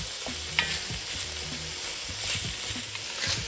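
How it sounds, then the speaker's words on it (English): Ground meat browning in a hot pan while a wooden spoon breaks it apart, giving a continuous soft sizzle with repeated low scraping and tapping strokes, fairly quiet and close, no talk. "take your wooden spoon or whatever you're using to break it up, and break it up as you're cooking it"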